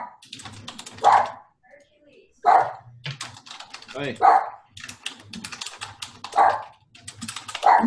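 Two dogs barking indoors in short repeated bursts, spaced a second or two apart and fairly close, with keyboard typing clicking between the barks and a brief spoken word.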